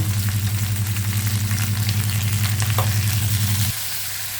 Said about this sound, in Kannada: ಬೆಳ್ಳುಳ್ಳಿ ಈರುಳ್ಳಿ ಫ್ರೈ ಆಗಿದೆ ಪುದೀನ ಹಾಕ್ತಿದ್ದೀನಿ ಮತ್ತು ಟೊಮೊಟೊ